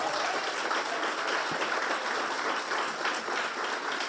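Steady, evenly textured applause from a church congregation during a Sunday service, continuous for several seconds with a single low thump partway through.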